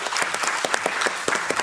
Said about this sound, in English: We can applaud as well.